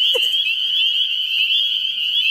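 A tree frog gives a steady, shrill trilling call that holds close and loud without a break, with a few faint rustles underneath.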